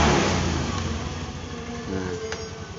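A Honda Beat scooter engine, kick-started, runs steadily and close by, loud at first, then settling into an even idle with a faint rattle.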